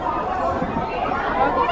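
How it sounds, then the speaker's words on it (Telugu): Crowd chatter inside an underwater tunnel fish exhibition in Vizag: a steady, close hubbub of many overlapping voices murmuring and talking in an enclosed hall, with no single voice standing out. "బట్ ఇక్కడ గుంపు బలే ఉంది కదా."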